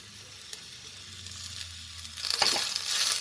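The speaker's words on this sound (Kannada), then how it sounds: "ಈಗ ಹಸಿ ಕೊಬ್ಬರಿ ಆ್ಯಡ್ ಮಾಡ್ತಾ ಇದ್ದೀವಿ. ಇದನ್ನು ಸ್ವಲ್ಪ ಹುರ್ಕೋಬೇಕು ಚೆನ್ನಾಗಿ." Fresh grated coconut fries with onion in a pan, giving a steady close sizzle that swells louder and crackles harder toward the end, with stirring scrapes and no voices.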